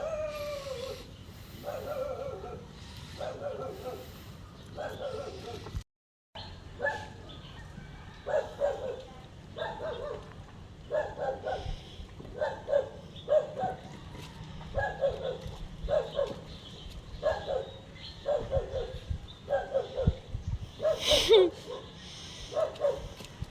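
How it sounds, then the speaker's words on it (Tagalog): A puppy born to a stray dog, taken in by a family near a river, gives a steady run of short yips and howling cries. The calls are repeated in a regular rhythm at close range, with a brief gap early on. "Ito po yung anak lang ng ligaw na aso."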